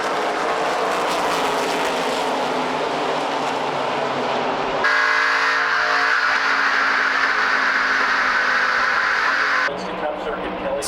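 NASCAR stock cars roar back up to speed on the restart in a 1998 race, a loud, sustained engine drone with a shifting pitch as cars pass close by.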